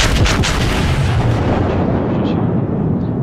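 Heavy battleship main guns fire in World of Warships, a deep, rumbling boom that fills the opening and then rolls off slowly as a long, loud decaying roar with no talking.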